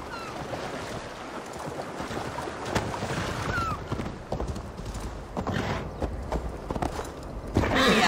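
Horse hooves clip-clop in Assassin's Creed Valhalla on a ride near Jorvik, a steady galloping rhythm of hoofbeats under water-like ambience and rushing game background.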